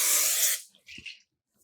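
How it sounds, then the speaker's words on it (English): Cooking spray hisses from an aerosol can into an 8-inch cake pan in one loud, steady burst of about half a second, followed by a faint clatter as the pan is handled. "So I'm just going to spray."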